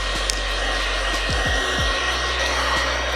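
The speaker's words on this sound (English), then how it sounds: "So the first thing we're gonna do is heat up this fender a little bit with our heat gun." A heat gun blows a steady, loud airy whoosh while warming a Honda's dented fender, its motor tone dipping briefly partway through and then running on continuously, with no talking.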